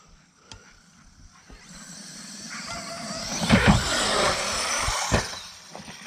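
Traxxas E-Revo 2.0 electric RC car driving, running on a newly fitted ESC: a whining motor that rises and surges in loud bursts near the middle and again toward the end, with brief rattling clicks.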